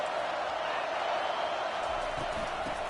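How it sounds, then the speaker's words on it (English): Steady, distant stadium crowd roar in College Football 25 on PS5, a broad continuous wash of cheering noise without distinct voices, with faint thumps near the end. "This crowd bringing the energy and noise early."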